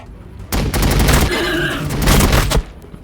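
Rapid gunfire volley from Warhammer 40K Battlesector, a loud sustained burst of shots lasting about two seconds with a booming low end, then cutting off.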